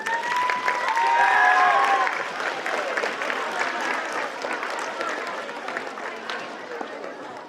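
A school awards assembly audience claps steadily for several seconds, a dense wash of applause with a few whistles early on, slowly tapering.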